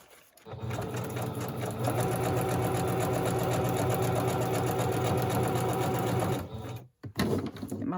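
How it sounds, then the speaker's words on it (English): A sewing machine runs a zigzag stitch across the top of a collage craft piece, a close, steady, rhythmic mechanical chatter that stops near the end, followed by a short handling clatter. "So we're going to go across the front with a zigzag stitch."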